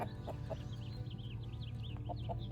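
Hens clucking softly in a pasture beside a goat yard, a few short clucks and calls spread across the moment over a low steady hum.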